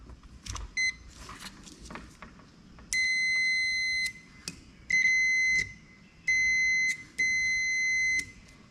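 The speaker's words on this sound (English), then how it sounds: "We'll just take a continuity test and make sure we've got a circuit" A continuity tester on a rebuilt side by side starter gives a high electronic beep, sounding as several sustained tones of about a second each with gaps between, preceded by scattered clicks and taps of probe contact, close and clear.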